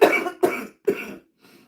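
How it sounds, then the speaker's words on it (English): A woman coughs three times in quick succession, close and clear, followed by a faint softer trailing cough. "When I get excited, that's when I cough a little bit more"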